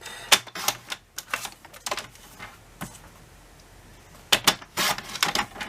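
Paper is cut for a scrapbook album page in a string of sharp, close snips and clicks in two clusters, with a quieter pause between them.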